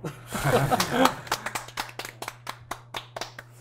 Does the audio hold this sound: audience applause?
yes